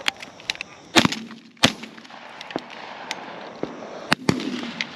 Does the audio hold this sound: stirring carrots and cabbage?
no